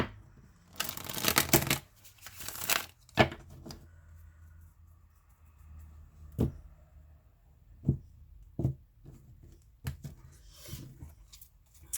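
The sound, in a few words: shuffling tarot cards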